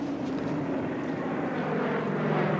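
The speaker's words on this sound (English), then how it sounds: "First, a Coast Guard plane from Juneau arrived, dropping supplies." A Coast Guard propeller plane from Juneau flies overhead with a steady, continuous engine drone that holds at a fairly even loudness and swells slightly near the end, with no voices.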